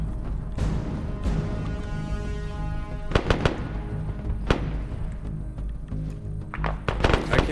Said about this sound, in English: we're still taking sniper fire